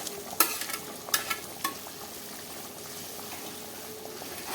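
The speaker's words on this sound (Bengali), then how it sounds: "এখন আমি চিংড়ি মাছগুলো দিয়ে দেব।" Small prawns tipped into a simmering milky malai curry gravy, a few sharp clinks and scrapes of the spoon against the pan early on, then a quiet steady bubbling sizzle with no voices.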